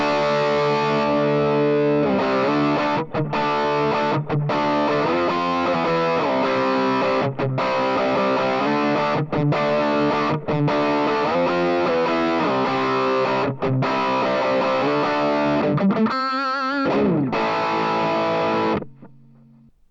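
Electric guitar run through a preamp pedal placed in an amplifier's effects loop, a steady stream of driven, slightly distorted chords and riffs for about eighteen seconds, close and loud, with a short warbling passage near the end before it cuts off.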